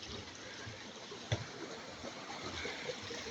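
Spring water trickles out between rocks in a cool, shaded spot, a soft continuous babbling flow heard close but faint, with one small splash or knock.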